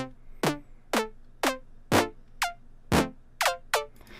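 Future bass pluck synth patch built in Serum plays nine short bright plucks in a loose rhythmic pattern, each with a sharp attack and quick falling decay, clear and alone.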